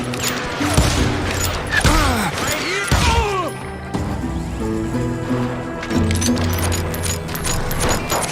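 Gunfire in the Call of Juarez video game, with sharp shots and clattering impacts mixed with shouting voices and tonal game music in a busy, loud Wild West firefight.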